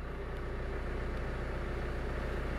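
A Kia Sorento 2.2 diesel 4WD idles with a low, steady rumble and an even rhythmic chug, close and continuous without any voices.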